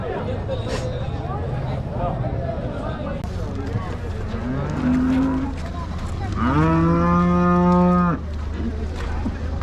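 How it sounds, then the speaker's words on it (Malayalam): A cow moos loudly and close by at a dairy cattle market, one long deep bellow after a shorter low call, over a steady babble of voices and market bustle. "നല്ല അടിപൊളി പശു."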